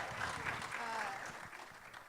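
A festival panel audience claps, a soft, steady wash of applause heard from a distance with a voice briefly over it.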